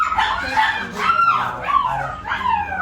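A dog yips and barks in short bursts, close and fairly loud, with whimpering tones between the calls, while people talk nearby.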